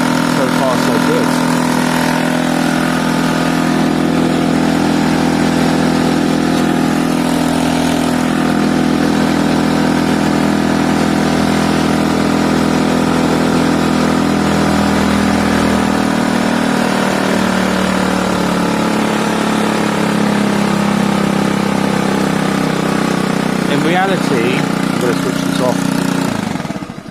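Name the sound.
Piaggio Fly 50cc scooter engine idling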